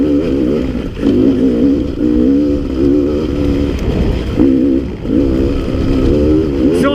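A Beta 300RR dirt bike engine, running lean off the bottom end with a bog, revs and burbles up close. The note rises and falls repeatedly and stumbles unevenly between pulls.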